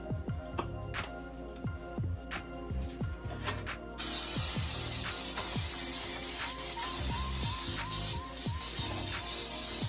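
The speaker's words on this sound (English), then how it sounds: "now it's time to go ahead and spray our pan" Cooking spray hisses steadily from an aerosol can into a tube cake pan for a lemon blueberry pound cake, a loud continuous spray starting a few seconds in, over clicking and clattering kitchen sounds.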